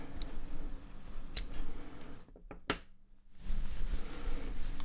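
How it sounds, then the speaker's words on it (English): Scissors snip through crochet yarn while a hat is being finished, a short close cutting sound standing out against quiet room noise. "and cut the yarn"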